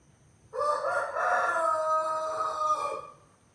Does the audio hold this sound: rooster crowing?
yes